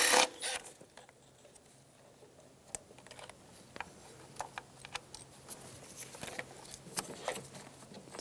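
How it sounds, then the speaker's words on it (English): Clicks and ratcheting taps of a wrench backing out a 10mm bolt on the engine of an Infiniti G35 during fuel injector replacement, a string of sharp, close, irregular metallic ticks over a quiet background. "Remove the 10mm bolt."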